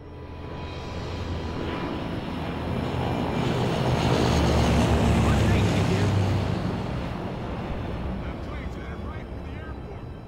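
A propeller airplane flies overhead in the video game Left 4 Dead 2, its engine drone swelling to a loud peak midway and then slowly fading, with faint voices underneath.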